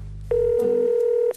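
A telephone dial tone sounds after a soft low hum, holding one steady loud tone for about a second before cutting off abruptly.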